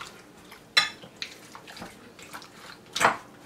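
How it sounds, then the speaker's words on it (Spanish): Marinated chicken seasoned with garlic salt is stirred in a bowl, giving soft wet squelches and a few sharp clinks of a utensil against the bowl, close and fairly quiet. "Lo vamos a revolver muy bien."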